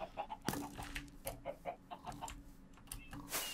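Chicken clucks in the Block Hunt video game, a run of short, faint, repeated clucks with one sharper squawk, heard alone without voices.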